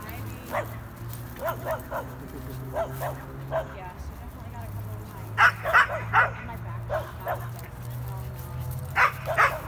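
A corgi and a chihuahua mix bark and yip in short bursts indoors, with some whimpering, while a person talks nearby over a low steady hum.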